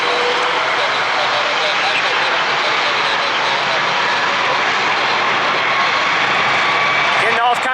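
Aircraft engine held at full throttle through a sluggish takeoff roll, a loud, steady roar filling the whole span with little change until a brief rise at the very end.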